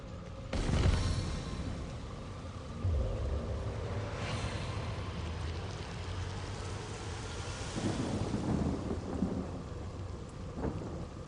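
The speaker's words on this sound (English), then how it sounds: "first let's get some rain going" Rain spell cast in the PC fantasy role-playing game Divinity: Original Sin Enhanced Edition, a rolling thunder crack followed by steady hissing rainfall and further low rumbles, continuous storm sound with no talking.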